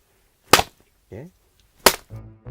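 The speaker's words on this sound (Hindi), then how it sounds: "जो ढिशुम ढिशुम की आवाज सुनाई देती है वो दरअसल चप्पल और कच्चे मांस से बनाई जाती है" Slipper slapped against raw flank steak to make a movie punch effect: two sharp, loud smacks about a second and a half apart, each followed by a short quieter rustle or thud.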